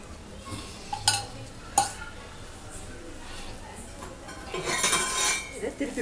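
A metal spatula scrapes and taps on a pan while a pesarattu, an Andhra-style green gram dosa, cooks with oil drizzled around it; two sharp clinks come early, then a louder scraping burst, close by.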